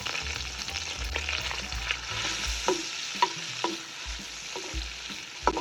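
Black raisins fry gently in butter in a kadhai over low heat, with a soft, close sizzle and repeated scraping stirs and light clinks of a spoon against the pan.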